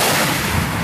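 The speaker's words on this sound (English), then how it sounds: "Missile away." A TOW missile launches during National Guard training with a single loud, dense roar that fills the whole moment and holds steady, with no talk over it.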